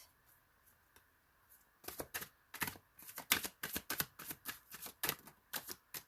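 Tarot deck being shuffled by hand, a quick run of crisp card riffles and flutters after a quiet start, close and fairly loud with no talking.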